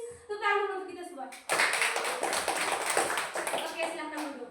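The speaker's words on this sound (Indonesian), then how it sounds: "Tepuk tangan untuk kita semua" Children clapping their hands in a classroom during an Indonesian language lesson: a brief spoken line, then a sudden burst of many small hands clapping steadily and close, continuing for about three seconds.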